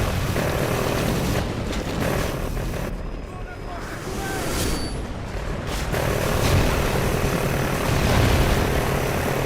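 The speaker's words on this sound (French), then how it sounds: "On n'arrivera pas à se débarrasser de cet hélico." A helicopter thrums steadily in the Call of Duty Ghosts video game, mixed with gunfire and other game noise, while someone speaks French over it.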